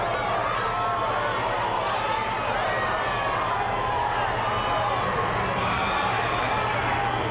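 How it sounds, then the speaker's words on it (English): A large street crowd at the 1999 UConn championship parade in Connecticut cheers and shouts continuously. Many overlapping voices form a steady, loud wall of whoops and yells, with a low hum running beneath. "I'll let you listen to them cheering for a second."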